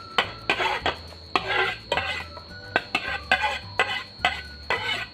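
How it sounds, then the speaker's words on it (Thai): Lemongrass, garlic and kaffir lime leaves go into a pot of stewed beef scraps, with repeated clinks and scrapes of a utensil against metal in a steady, uneven rhythm, close and clear with no talking. "ใส่ทุกอย่างเลยค่ะ ตะไคร้กระเทียมใบมะกรูด"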